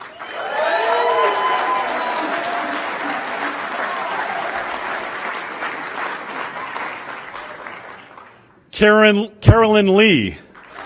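A graduation crowd at an Executive MBA ceremony applauds loudly and steadily for several seconds, the clapping thinning out before a single voice reads out a name.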